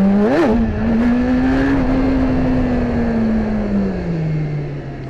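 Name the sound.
BMW S1000RR motorcycle accelerating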